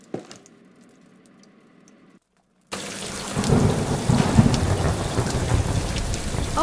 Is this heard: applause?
no